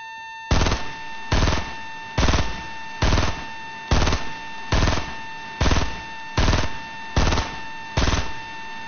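Gunfire from a weapon in a video game, about ten loud, evenly spaced sharp shots or short bursts repeating steadily, close and clear with no talk over it.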